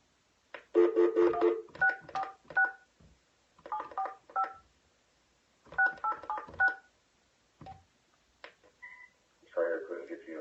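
Touch-tone keypad beeps ring out in quick clusters as a phone number is dialed for a sales call, several groups of paired tones separated by short pauses, fairly close and clear.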